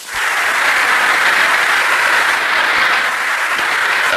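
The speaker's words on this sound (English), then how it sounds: "Even Miss Hard applauds." Tennis crowd applauding at an Althea Gibson match against Darlene Hard, a loud, dense, sustained wall of clapping from a large audience with no voices over it.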